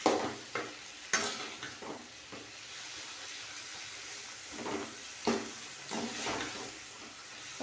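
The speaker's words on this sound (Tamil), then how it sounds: "தக்காளி ஆட் பண்ணிட்டோம். தக்காளி நல்லா வதங்கட்டும்." Tomatoes sautéing in a pan with a soft, steady sizzle while a spoon stirs and scrapes several times against the metal.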